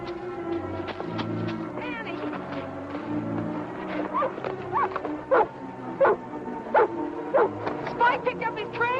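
A dog tracking a trail gives several sharp barks in the second half, partly mixed with voices talking and a low background hum.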